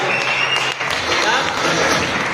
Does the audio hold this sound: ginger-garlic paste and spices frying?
no